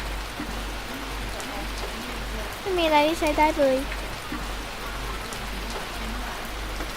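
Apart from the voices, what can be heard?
heavy rain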